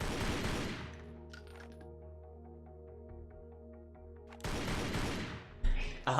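Lara Croft fires a gun in a Lara Croft video game, with quick bursts of sharp gunfire at the start and again near the end, separated by a quieter stretch of humming game ambience.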